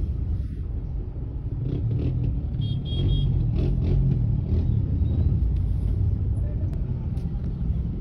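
Car traffic rolls near a cemetery in Morong, Rizal, on All Souls' Day as a steady low engine rumble with passing vehicles, close and continuous, under faint voices.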